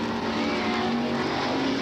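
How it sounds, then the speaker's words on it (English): Late model super stock race cars roar past on a racing track, a steady loud engine drone that holds without a break, heard alone with no voices. "Lap cars moving to the outside there."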